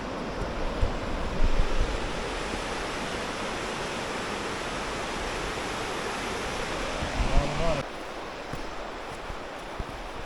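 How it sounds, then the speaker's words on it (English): Big waterfall below a forest boardwalk on the Inside Passage of Alaska, a steady loud broadband roar of rushing water that continues unbroken and alone, with no talk over it. "Big waterfall down there. Lots of rushing water."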